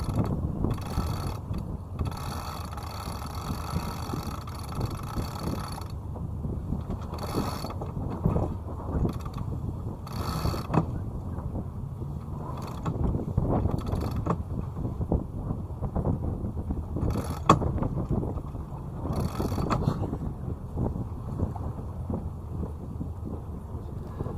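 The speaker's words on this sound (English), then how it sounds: "wind a few turns of the sheet round the winch, and then pull the genoa out as I loosen the furling line" Sailboat winch with genoa sheet and furling line being worked on deck, repeated clicking ratchet and rope-running mechanical sounds in bursts over steady wind noise, close by.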